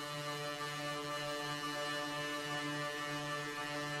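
Several sustained musical notes drenched in a very long reverb tail, blending into a steady, even wash of layered tones that hangs without clear attacks, moderately quiet and continuous throughout.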